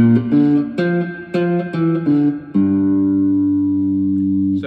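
A three-string cigar box guitar is picked with finger and thumb on the outer strings, a short run of plucked double-stop notes in an uneven rhythm ending on a sustained, ringing chord, close and clear.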